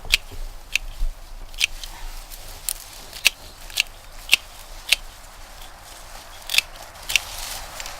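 Flowering plant stems snipped back right to ground level with garden cutters, giving a series of sharp, crisp cuts at irregular intervals over a soft outdoor background, with no talking.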